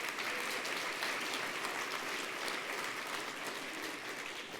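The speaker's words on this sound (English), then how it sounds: "Can we have another round of applause, please, for Santhosh Ramdoss?" Another round of audience applause at a conference session on the ownership economy: a dense, even burst of clapping from a large crowd, loud and sustained for the whole stretch, with no talk over it.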